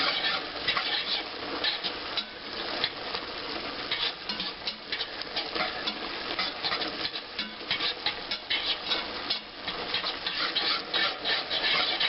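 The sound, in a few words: stirring seafood gumbo with Cajun seasoning in a pot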